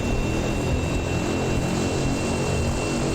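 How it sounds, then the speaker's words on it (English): Aircraft engines idling on the ground in the X-Plane 11 flight simulator game, a steady dense propeller drone with a faint high whine, continuous and loud throughout, no speech. "Alright, engines are already on."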